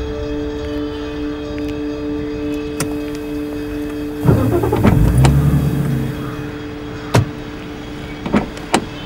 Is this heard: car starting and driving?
yes